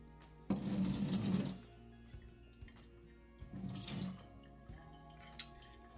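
Water runs from a kitchen tap into a pot of yams in two bursts, a longer splashing stream followed by a shorter one, with quiet gaps and faint drips between them.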